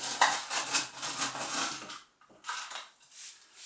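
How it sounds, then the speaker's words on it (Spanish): Ice cubes rattling and clinking against glass and metal in a cocktail being built with reposado tequila, a dense clatter for about two seconds, a short pause, then more clinking, close and fairly quiet. "le echamos hielo"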